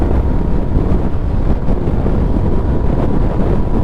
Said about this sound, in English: There's a lot of wind going underneath, so I wonder how the mic sounds.